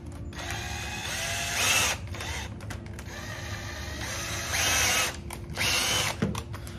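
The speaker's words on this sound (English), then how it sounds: "I'm just gonna start drilling in the hole first." A power drill bores a screw hole while building an indoor hydroponic system, whirring in several close, loud bursts with short pauses between, its motor pitch rising as each burst spins up.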